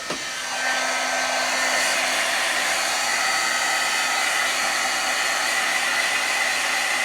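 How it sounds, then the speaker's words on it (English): A heat gun blasts hot air over faux leather paint in a steady, loud, unbroken roar that starts within the first second and holds without a break. "let's get the heat gun on here"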